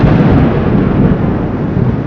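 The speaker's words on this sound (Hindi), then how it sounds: "आसमान में बादल गरज रहे थे" A loud, deep rumble of thunder rolls continuously, dense and low, filling the whole stretch without a break, as light rain begins in the Himalayan foothills near Chakrata.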